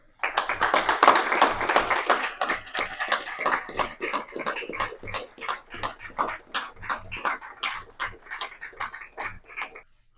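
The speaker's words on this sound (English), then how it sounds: "let's all rise and give a round of applause to Jerry" Applause from guests standing at a formal military officers' association dinner, a dense patter of many hands clapping steadily for about ten seconds, fairly close, with a faint voice or two mixed in.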